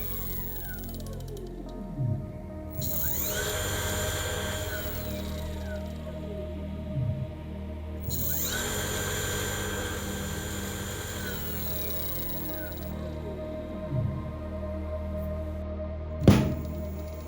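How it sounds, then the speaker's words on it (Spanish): An electric motor converted from a car alternator whines through several rising and falling speed sweeps, with tonal harmonics sliding up and down, plus a few soft thunks and a sharp knock near the end. Quiet overall, with no voices. "Cuando movemos el potenciómetro, el motor comienza a acelerar. Hemos alcanzado la velocidad máxima del motor."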